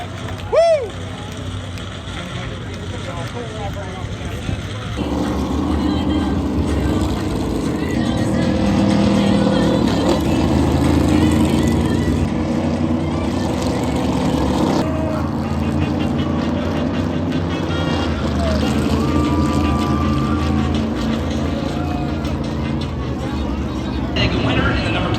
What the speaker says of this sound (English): Get them engines revving right now.